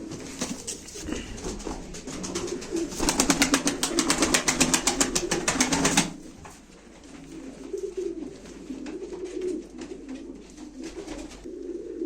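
Pigeons at a live pigeon auction, a dense burst of wing flapping and fluttering over low cooing, then quieter cooing and rustling carrying on near and moderately loud.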